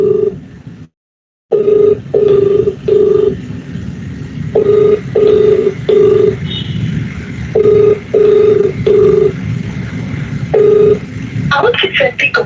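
Telephone call ringback tone: repeated short beeps in pairs and groups with brief gaps, loud and clear, after a short silence, with a brief click of other sound near the end.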